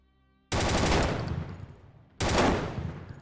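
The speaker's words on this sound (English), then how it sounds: "The first weapon that is active is the assault rifle." An automatic assault rifle in a low poly first-person shooter game fires two loud, sustained bursts of rapid gunfire, each starting abruptly and decaying, with a brief gap between them.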